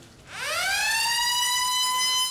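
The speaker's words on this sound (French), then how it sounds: "retentissement de la sirène" An exam-start siren at a Benin baccalaureate centre winds up from low to a steady high wail, loud and held without any talk.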